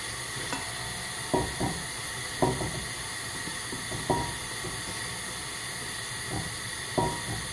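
Butter melting in olive oil in a pan, giving a steady soft sizzling hiss with a few light knocks and stirs at irregular intervals, close by.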